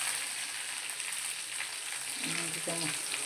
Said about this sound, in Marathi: फक्त कोथिंबीर टाकली कोथिंबीर लाल होऊ द्यायची